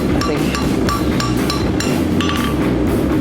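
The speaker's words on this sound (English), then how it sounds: "take the chisel, and actually start cutting into this" Chisel striking a forge-welded hot steel dragon head, a loud, fast series of sharp metallic hits ringing over a constant roar of the forge.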